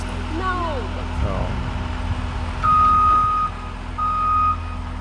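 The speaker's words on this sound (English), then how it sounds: "we're just gonna back the truck and trailer right underneath it" Truck pulling a trailer reverses with its backup alarm sounding, steady electronic beeps in two long pulses over a low idling engine rumble, with machinery noise and some background talk.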